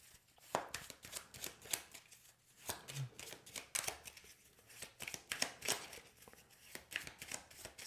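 Tarot cards being shuffled for a fortune-telling reading, a run of crisp riffling bursts and soft slaps repeating in quick uneven rhythm, close and fairly quiet, with no talk.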